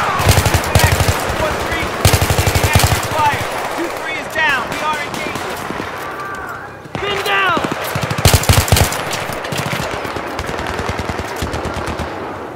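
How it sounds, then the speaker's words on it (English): Heavy automatic gunfire in a Battlefield 3 ambush from the trees, with machine-gun bursts and scattered shots in rapid clusters, loud and near, while soldiers' voices shout in between. "Vehicle down, taking fire from the left!"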